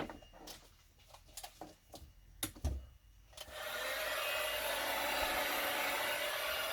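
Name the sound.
heat gun heating BMW headlight seal edge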